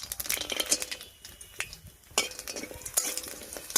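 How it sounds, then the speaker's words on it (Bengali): Lentil dumplings (dal bori) fry in hot oil over a tempering of dried red chilies, bay leaves and whole cumin, a steady sizzle broken by scraping stirs and clinks of a spatula against the pan. "একবার ফোড়নের সঙ্গে ডালের বড়িটা ভেজে নিচ্ছি।"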